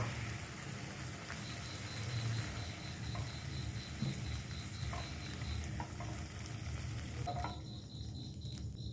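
Carrots and capsicum frying with spices in a pan, a steady soft sizzle with occasional stirring scrapes, fairly quiet and without talk, ending with a brief clatter before the sizzle thins out.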